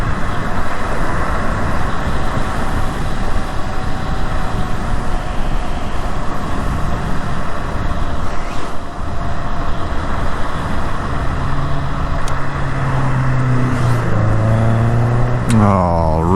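Steady road traffic rushes past a rider on a Bronco Xtreme 11 electric motorbike in moving city traffic. A loud wash of vehicle noise lasts throughout, and near the end a nearby engine rises in pitch, joined by brief sharp sounds.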